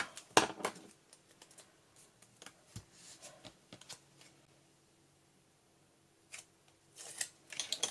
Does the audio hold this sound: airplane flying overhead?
no